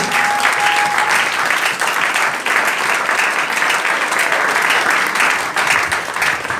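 A church congregation claps and cheers for the Lord during a morning sermon, with steady, dense applause and crowd noise sustained throughout.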